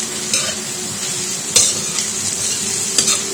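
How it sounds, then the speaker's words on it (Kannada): Cabbage and other vegetables for Mexican rice stir-fried over a high flame, a steady close sizzle with a few sharp scrapes and clinks of a utensil against the pan. "ದೊಡ್ಡ ಉರಿಲೇ ಫ್ರೈ ಮಾಡಬೇಕು"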